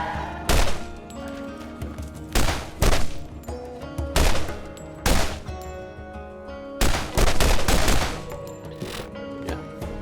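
Modded weapon firing in the video game Borderlands: loud bursts of rapid gunfire in several separate volleys with short pauses between, each blast booming and dense.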